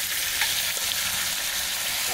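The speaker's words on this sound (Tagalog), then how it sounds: "Prito mo na iba. Prito na to." Steady crackling sizzle of food frying in a pan at a campsite, continuous and fairly close, with no talking.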